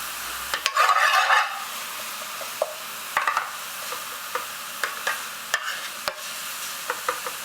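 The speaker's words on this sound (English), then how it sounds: "put it on low gas a little bit and let the peppers and onions cook in a little bit" Peppers and onions cooking over low gas for a vegetable bhuna, with a soft continuous sizzle, a short burst of frying near the start, and scattered spatula scrapes and taps.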